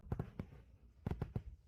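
Fireworks burst in two quick clusters of muffled thumps, three pops then a short pause and three more, fairly close and dull with a low boom to each.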